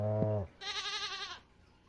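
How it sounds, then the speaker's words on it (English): A goat from the Stardew Valley video game gives a short low cry, then a longer, higher wavering bleat, both clear and close with no talking. "I know you're a goat"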